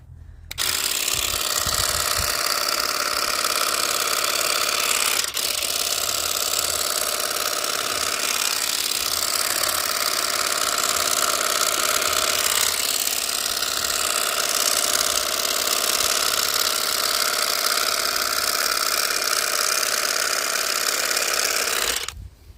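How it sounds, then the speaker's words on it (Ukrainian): A string trimmer fitted with a new lawn attachment cuts grass with a loud, continuous, high-pitched engine drone that holds steady for about twenty seconds, close by and with no talk. "покажу, як воно по траві працює"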